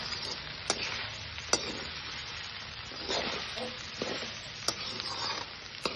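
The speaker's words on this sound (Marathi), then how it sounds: "आता ह्याला हलवून घ्यायचं." Sabudana usal with potatoes sizzling in a pan while being stirred, a steady frying hiss broken by scattered clicks and scrapes of the utensil, close and moderately loud.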